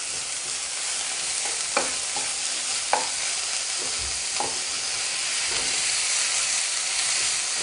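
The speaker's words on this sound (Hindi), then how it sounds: "This is the sizzle we are looking for" A mixture sizzles steadily in a pan on a home stove, a constant close hiss broken by a few sharp clicks of a utensil stirring it.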